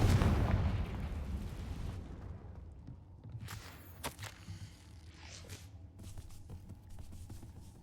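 In Hogwarts Legacy, casting the Confringo blasting spell sets off a booming burst with a rumbling tail that fades, followed by scattered crackles, impacts and footsteps in a quieter game space.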